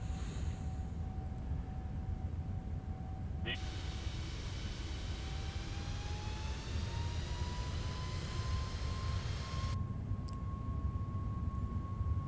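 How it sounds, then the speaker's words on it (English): Boeing 737 MAX engines in Microsoft Flight Simulator 2020, a steady low rumbling drone with a rising whine that climbs in pitch, loud and continuous throughout. "Oh my god, the vibration of this airplane, it's very legit."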